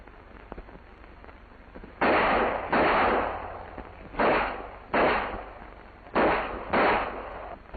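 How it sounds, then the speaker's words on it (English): Loud pistol shots during a shooting lesson, six sharp cracks in pairs with short gaps between, each reverberating briefly, close and alone without talk. "It's one thing to fire at a target that can't shoot back, and it's another thing to hear those bullets whizzing by your ears."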